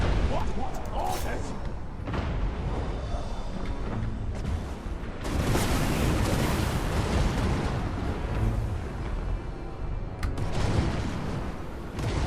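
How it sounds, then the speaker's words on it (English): Skaven warp lightning cannon fire from a Total War: Warhammer 2 battle, loud crackling booms and blasts dense with battlefield roar, with bursts around five and ten seconds, and a voice talking over the din. "I actually might start shooting at their lord with the warp lightning cannon"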